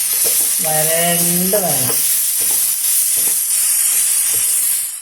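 Chopped ingredients hiss and sizzle steadily in hot oil in a pan while an Onam special dish is cooked. The sizzle is close and continuous, and someone briefly speaks over it.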